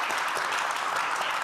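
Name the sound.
audience round of applause for the finance minister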